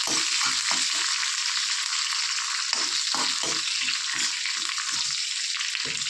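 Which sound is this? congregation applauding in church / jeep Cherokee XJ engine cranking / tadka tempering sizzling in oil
tadka tempering sizzling in oil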